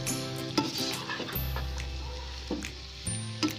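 Cumin and black pepper are stirred in a pan for homemade fried rice, with close scraping strokes and a light sizzle broken by a few clanks of the utensil against the pan.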